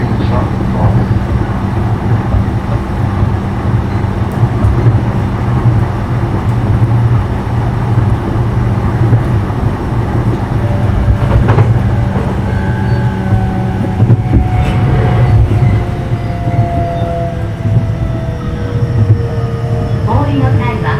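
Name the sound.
JR Ome Line E233-0 train running sound, Mitsubishi IGBT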